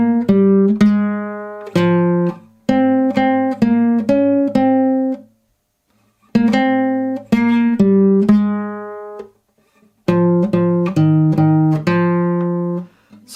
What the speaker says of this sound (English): a classical guitar like I'm playing on today